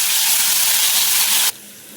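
Mustard seeds, cumin, garlic and ginger paste sizzle loudly in hot oil for a peanut amti, a steady bright hiss that cuts off abruptly partway through, leaving a faint lower hum.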